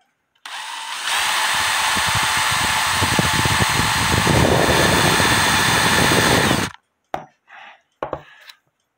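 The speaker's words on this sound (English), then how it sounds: "let me drill it deeper" A power drill runs loud and steady for about six seconds, drilling a hole in a clock part, then cuts off, followed by a few short quiet clicks and rustles.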